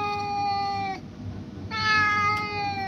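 A cat meows in two long, drawn-out cries separated by a brief pause, close and fairly loud.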